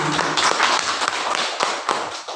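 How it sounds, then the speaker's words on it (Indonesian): Audience clapping for someone speaker at a teacher seminar on positive culture, a close, fairly loud patter of hands with a few sharper individual claps standing out, no talking over it. "Tepuk tangan dulu buat Ibu"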